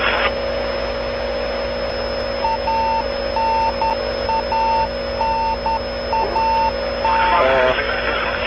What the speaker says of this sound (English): That's the familiar radio beacon providing